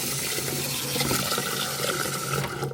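Water runs steadily from a tap into a pot of rice, a close, continuous splashing fill with no talk.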